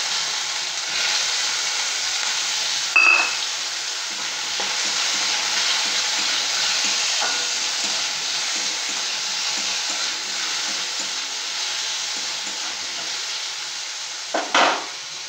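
Two medium tomatoes, chopped, fry with whole cumin seeds in a pan, giving a steady, loud sizzle throughout, broken by a few sharp clanks of a utensil stirring against the pan.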